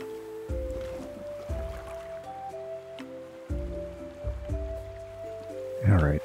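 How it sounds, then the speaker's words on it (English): Watering crops such as winter peas and lettuce in the farming game Roots of Pacha: soft splashing, dripping water sounds over a steady tonal game music bed, with a brief louder splash near the end. "let's water this mess up."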